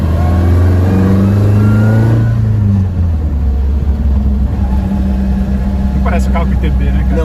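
A 1979-era BMW 320i E21 with an aggressive cam and individual throttle bodies, heard from inside the car as the engine revs up and then settles into a loud, throaty drone while it drives.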